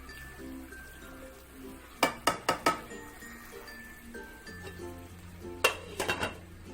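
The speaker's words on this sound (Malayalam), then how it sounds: "പാത്രം അടപ്പ് തുറന്നിട്ടൊന്ന് നോക്കണം" The lid of a pot of kuska rice is opened, giving two quick clusters of sharp metallic clinks and clatters close by against a quiet kitchen hum.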